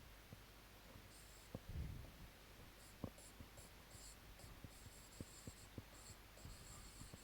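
Pen or pencil writing by hand on paper, with faint scratchy strokes and small taps repeating through a quiet background hum, plus a brief louder rustle near the start.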